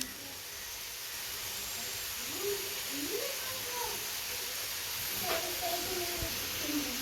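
Chicken tikka cooks on a tawa over a low-medium flame, giving a soft, continuous sizzling hiss with a few faint crackles, while a voice talks quietly over it.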